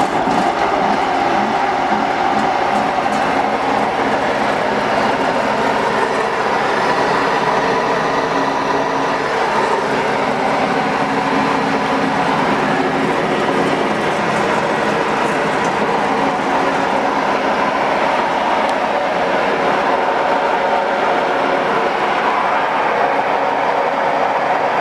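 A Bush Hog TDM8 finishing mower running, giving a loud, continuous mechanical roar and clatter that holds steady and close for the whole stretch, with no talking.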